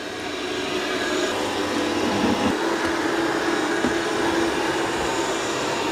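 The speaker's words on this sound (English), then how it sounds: "Here goes the auto empty on the eufy X10." A eufy X10 Pro robot vacuum station auto-empties its dust bin with a loud, steady suction roar and a droning hum, heard up close and alone throughout.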